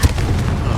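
A Confringo blasting spell cast in Hogwarts Legacy bursts as a single loud, booming blast with a low rumbling tail, heard alone.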